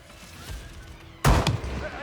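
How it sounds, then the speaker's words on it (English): A single sharp gunshot in the Hitman video game cracks out near and loud partway through, followed by a brief ringing tail over faint background ambience. "they're coming over to see what those gunshots were"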